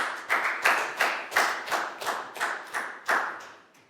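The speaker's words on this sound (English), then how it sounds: "High five, round of applause for Net, guys." A small group of students in a classroom claps in slow unison, about eleven sharp, evenly spaced claps that gradually fade in loudness, with no talking.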